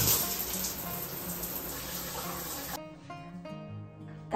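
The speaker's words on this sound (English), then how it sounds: "That was the most refreshing shower of my entire life" Shower water runs steadily and loudly as a broad hiss for most of the stretch, then stops abruptly, leaving a quieter room with faint tonal background sounds.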